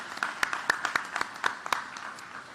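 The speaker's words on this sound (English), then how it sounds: "Let's give Mark a huge round of applause." Gala attendees at a human rights celebration clap for an honoree named Mark, a short burst of scattered, fairly close applause with crisp individual claps and no talking over it.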